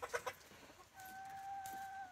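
Backyard chickens cluck softly around a pumpkin, a few quick near clucks followed by a longer drawn-out call, quiet and alone.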